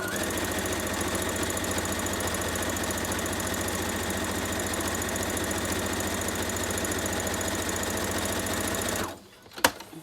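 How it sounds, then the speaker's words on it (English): A home sewing machine stitches a long straight seam down fabric for a gnome hat, with a steady close mechanical whir that runs unbroken for about nine seconds and then stops abruptly, followed by a brief click. "So I'm just going to sew a line all the way down."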